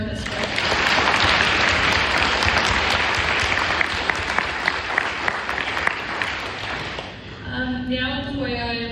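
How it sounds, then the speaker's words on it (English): An audience at a youth wellness forum applauds the speakers loudly and steadily for several seconds, the clapping fading near the end as a voice begins speaking. "If we could have a round of applause for everyone that spoke."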